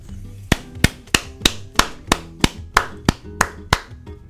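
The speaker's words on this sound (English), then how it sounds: "And it recognizes claps." Twelve sharp hand claps in a steady, even rhythm, close and loud, each a crisp slap over faint background noise, with no talking.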